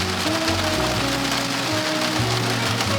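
Steady rain falling outdoors, a loud, continuous wash of drops on surfaces that fills the whole stretch without pause, heard alone with no talking.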